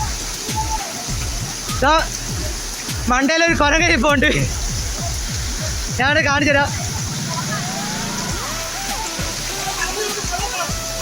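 Waterfall at Hariharapuram roars steadily as a broad wash of rushing water, continuous throughout, while someone talks over it.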